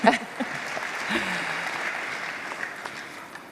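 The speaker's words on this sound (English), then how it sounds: "You can clap." Applause from an audience at a congressional event, a steady dense patter of clapping that swells right away, then holds at an even level for several seconds, moderately loud with no voices over it.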